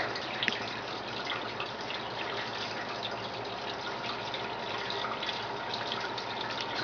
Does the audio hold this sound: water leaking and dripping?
yes